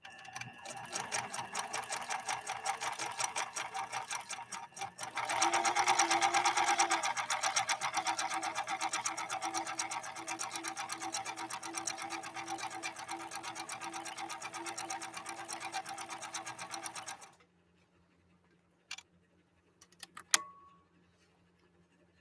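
A PFAFF 1222 sewing machine runs fast in a decorative stitch with needle swing, a steady rapid clatter that grows louder after a few seconds, then stops, leaving a few faint clicks and a short whirr.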